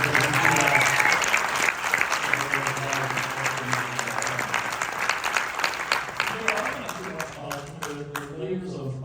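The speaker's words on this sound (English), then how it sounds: "giving us a good opportunity to ask for a round of applause" An audience at a film Q&A bursts into sustained applause, a dense wash of clapping that stays loud throughout and tapers slightly toward the end, with a voice speaking faintly underneath.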